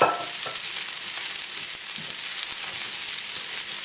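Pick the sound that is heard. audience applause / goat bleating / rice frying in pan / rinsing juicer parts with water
rice frying in pan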